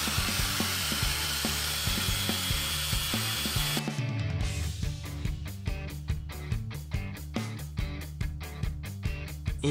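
A power tool grinds a pufferfish shell down toward its nacre layer with a loud, close whine. Partway through, the tone turns into rapid rhythmic bursts of grinding against the hard surface.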